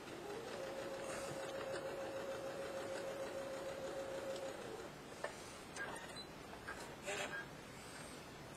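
A home sewing machine stitches a 1/8 inch seam on fabric, a quiet steady whir lasting several seconds before stopping, followed by faint handling clicks and soft sounds.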